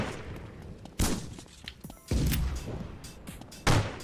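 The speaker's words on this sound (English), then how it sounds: "Oh my god, that's so many explosions." Several loud booming explosions in a video game burst at intervals, each a sharp blast followed by rumbling debris and crackle.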